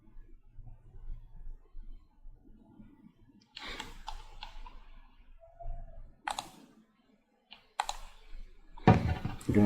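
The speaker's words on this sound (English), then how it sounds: "We're going to type in my password." Computer keyboard keys tapped in short clicky bursts separated by pauses while a password is entered on a server, close and moderately loud over a quiet room, with low murmuring at the start.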